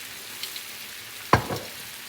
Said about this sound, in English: So now we're gonna put in our wine.